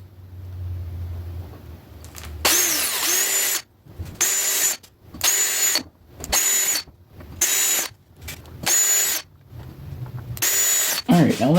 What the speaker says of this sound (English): we can start by drilling out our holes.